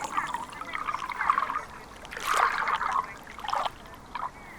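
A slow-flowing river trickles and babbles gently near the bank, soft splashing rising and falling in small bursts.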